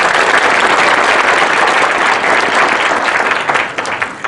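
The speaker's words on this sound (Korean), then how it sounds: "힘찬 박수 다시 한번 부탁드립니다" An audience claps loudly and continuously at a citizens' humanities lecture held by the Changwon court with Changwon National University, dense applause up close that thins slightly toward the end.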